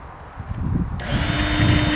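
A Work Sharp belt sharpener runs on a single-bevel, partially serrated tanto knife, starting with a quieter scraping and then rising to a steady loud grinding whine with a constant motor tone in the second half.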